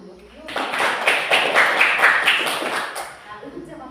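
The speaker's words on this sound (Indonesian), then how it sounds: "Tepuk tangan dulu." A classroom of students claps together for about two and a half seconds, a dense brisk patter of hands that stops abruptly, with brief speaking before and after.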